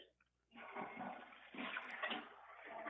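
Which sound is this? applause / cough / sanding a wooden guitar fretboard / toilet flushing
toilet flushing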